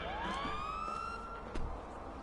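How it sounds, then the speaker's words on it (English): Police siren on an FIB car in the GTA Online video game, a rising electronic wail that sweeps up and holds its tone, steady and fairly loud, with no voices. "The siren setup is pretty straightforward."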